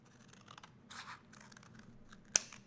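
Scissors trim card paper at close range in a crafting session, with a few soft snips and rustles followed by one sharp, crisp cut near the end and no talk.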